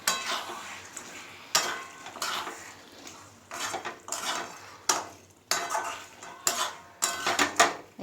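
A metal spoon scrapes and clanks against a pan in a series of sharp strokes while chicken with green chillies and yogurt is stirred, with soft sizzling between the strikes.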